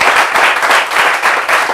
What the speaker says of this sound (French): on peut applaudir très fort donc cette prière du pasteur Couillot